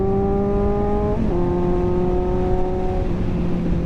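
A Kawasaki Z900 superbike engine runs steadily up close, a constant loud droning hum that dips briefly in pitch before settling back to an even tone, with no voices.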